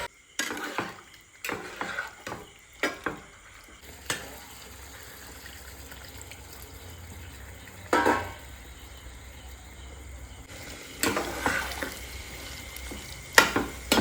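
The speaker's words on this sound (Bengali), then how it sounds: "দিয়ে দিলাম অল্প জল" A little water goes into a pan of tomato sauce during cooking, setting off a steady sizzle and bubbling, with sharp stirring scrapes and clinks of a spoon against the pan before and after.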